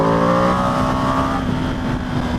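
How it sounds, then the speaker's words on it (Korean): Ducati Streetfighter V2S motorcycle engine held at about 5000 RPM as the throttle is rolled on, a loud, steady, close drone with a rising rumble. "지금 5000 RPM에서도 스로틀을 감아주면, 제가 지그시 감았고 조금 더 화끈하게 걸어주면은 더 토크 영역을 잘 살릴 수 있거든요."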